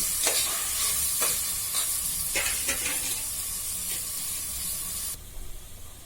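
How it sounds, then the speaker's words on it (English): Chopped onions and green chilies sizzle in a pan for vegetable cutlets, a bright steady frying hiss broken by several stirring scrapes, then dropping sharply quieter near the end, with no talking. "And 3 green chilies chopped, and I will let it fry."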